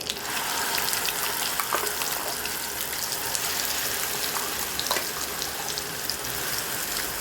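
Ground garlic, dried red chillies and salt frying in hot oil for garlic chutney, a steady dense sizzle with crackle that holds evenly throughout, close and fairly loud, with no talking.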